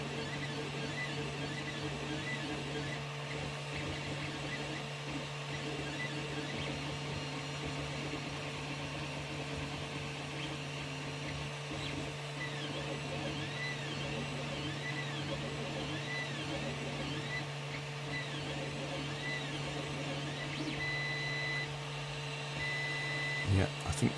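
A 3D printer works through a small PLA print, a quiet steady motor hum with faint repeating stepper whines and light mechanical ticks, heard alone at low level.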